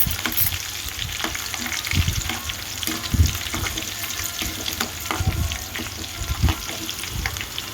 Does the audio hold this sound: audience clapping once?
no